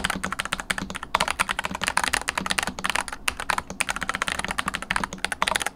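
Rapid, steady typing on a 75% mechanical keyboard fitted with stiff Gateron Baby Kangaroo switches, heard up close and alone as a dense run of crisp clacks.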